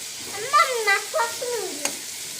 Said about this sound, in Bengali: দেখুন এক একটি পাবদা মাছের সাইজ কি ভালো করে ভেজে নিচ্ছি